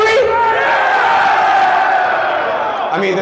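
A large crowd at a live boxing event roars and cheers continuously, loud and close, with many voices yelling together in a sustained wall of sound.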